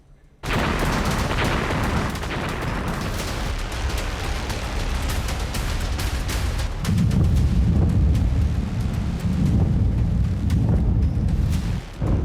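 A sustained roar of heavy booming blasts and rumbling from missile bombardment on Tel Aviv, loud and dense throughout, with sharp cracks scattered across the whole stretch.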